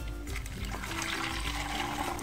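Water pours and trickles steadily into a container to rinse out a bag used for homemade leaf-adhesive spray solution, a continuous close splashing flow with no talking.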